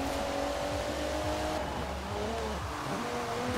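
An Alfa Romeo Giulia Quadrifoglio engine in Forza Horizon 4 on a rallycross course roars loudly and steadily, revving and shifting pitch with faint tire noise underneath.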